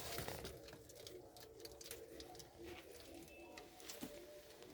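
Low, throaty cooing from a kept pigeon pair with young rises faintly out of a dense, noisy background, a few muffled rolling calls spread across the stretch.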